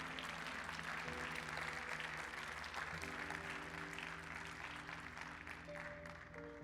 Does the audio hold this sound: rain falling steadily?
no